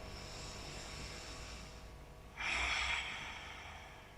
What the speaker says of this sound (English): Taking some deep inhales and exhales